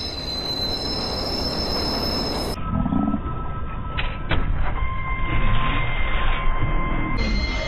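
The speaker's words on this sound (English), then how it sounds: "Southbound train, arriving shortly." A subway train pulls into a station in the video game Watch Dogs, its wheels squealing and rumbling steadily louder as it arrives, with a long metallic screech rising through the second half.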